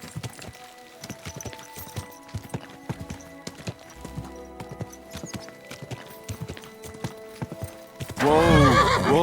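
Steady hoofbeats clop along with a horse whinnying in the video game Kingdom Come: Deliverance II, ending in a loud, close neigh that rises and falls.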